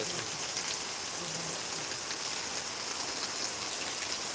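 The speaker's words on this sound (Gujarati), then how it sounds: "આ વરસાદ ખાલી તમે જુઓ કેવો વરસાદ આવે" Heavy rain pours steadily over a village during a storm, a dense unbroken hiss of drops striking surfaces, loud and close throughout with no voices.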